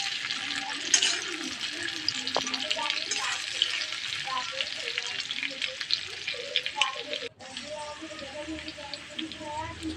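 Potatoes lightly frying in a pan give a steady, close sizzle with a few stirring clatters, while a voice talks intermittently over the cooking.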